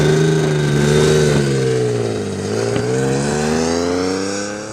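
An Alfa Romeo 164 Cloverleaf sedan on the move, its engine revving up and easing off with strong harmonic tones, close and loud throughout with no talking.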